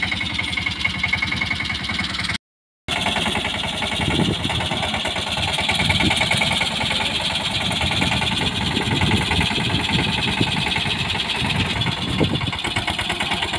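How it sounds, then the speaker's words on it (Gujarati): A small tractor engine running on a farm field, a close, steady, throbbing putter that cuts out briefly and then carries on evenly to the end. "આમાં ઝીણકું ટ્રેક્ટર જ હાલે"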